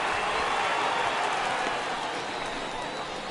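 Simulated baseball crowd in MLB 18 The Show, a spring training game of the Angels at Cleveland, rising for a full 3-2 count: a loud, steady wash of cheering and applause holds throughout and eases slightly toward the end.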